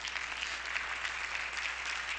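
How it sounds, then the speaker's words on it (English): A church congregation at a Sunday worship service claps hands steadily together, a dense, even wash of applause that sounds somewhat distant and soft. "Clap your hands like you're on fire."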